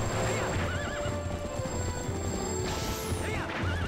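A horse in the video game Zelda Twilight Princess whinnies twice over steady rhythmic clip-clop of hooves, with game music and effects underneath and a brief crash.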